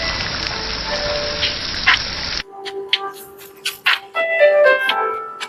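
Onions and green chillies hit hot oil in a pan for brinjal masala, sending up a loud, steady frying sizzle for about two seconds. The sizzle then cuts off abruptly and tonal music takes over.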